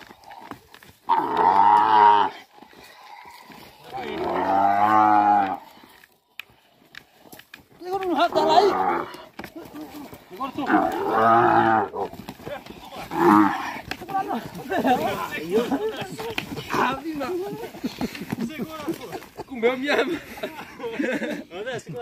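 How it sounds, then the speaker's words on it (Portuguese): A cow gives several loud, drawn-out moos close by while being tied up with rope, with people talking between and over the calls. "vamos ter que amarrar a vaca mais bem amarrada"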